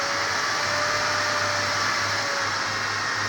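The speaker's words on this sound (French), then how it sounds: "Ventilo qui est dessous là. Voilà, ça pulse vachement." An electric fan running at 15 volts, a steady loud whooshing airflow with a constant motor hum and faint tonal whine, unbroken from start to finish with no voices.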